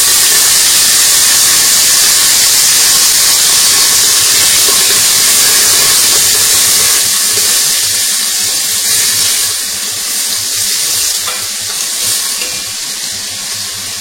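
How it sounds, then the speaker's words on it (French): Sliced onions sautéing in a mix of butter and olive oil, a loud, steady sizzling hiss that eases somewhat in the second half and carries on with no one talking. "Je fais revenir mes oignons dans le mélange de beurre coupé en lamelles, en grosses lamelles, jusqu'à coloration."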